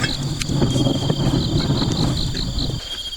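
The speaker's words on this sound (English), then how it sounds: "here I heard the sound of bee flying in and out into a hole" Bees buzz faintly around a hole in a lagoon setting, heard against steady insect trilling and wind noise, with soft thumps and rustles in the foreground and no talk.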